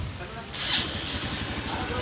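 A rebuilt XR200 motorcycle engine fires up after an overhaul, turning from quiet to a loud, rough running rumble about halfway through a two-second moment, heard up close.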